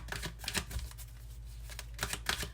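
Angel oracle cards are shuffled in quick riffling bursts at the start and again near the end, with a quieter rustle between them, close up and faint, with no voice.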